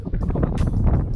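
Strong wind gust buffeting the microphone outdoors on a Bali island, a loud rushing roar that swells and pulses in rough bursts throughout.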